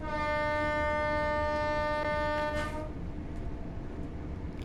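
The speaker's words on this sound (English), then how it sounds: "There's a whistle board coming up, so I'm going to sound the horn" A train horn sounded at a whistle board in Train Sim World 4 on the Peterborough to Doncaster line gives one long, loud, steady blast of nearly three seconds, then fades into the low rumble of the moving train.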